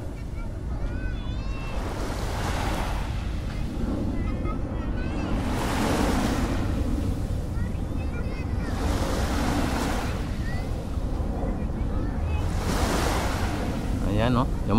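Sea waves roll onto the shore at Manila Bay in a steady wash, with recurring surges every few seconds under wind noise on the microphone.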